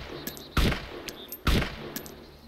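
Two loud, close gunshots in the survival game DayZ, about a second apart, each a sharp crack with a short tail over a quiet background.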